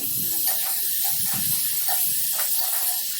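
Steady sizzling hiss of eggplant frying in hot oil, continuous and fairly loud, with faint clinks and stirring sounds underneath.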